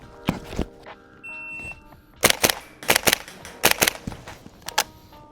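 Sharp metallic clacks of a VFC HK33 full-steel gas blowback airsoft rifle as its charging handle is slapped home, followed by several loud, close semi-automatic shots in quick pairs, with brief gaps between them.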